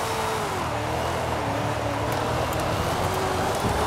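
A 1000hp drift car in Forza Horizon 5 holds full throttle in sixth gear at night on a long roundabout, its engine a steady, loud sustained drone with road roar running unbroken throughout.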